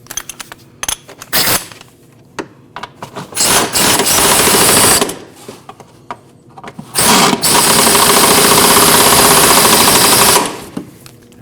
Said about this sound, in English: Give those a snug with the gun.